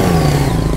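A Yamaha MT-09 motorcycle engine revs loudly and close by in one brief, steady burst, with a deep throaty growl and no voices over it.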